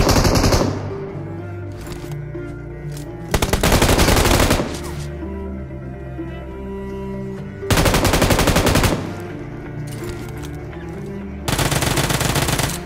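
UZI submachine gun fire in PUBG Mobile comes in three loud, sustained automatic bursts spaced a few seconds apart, over steady background music.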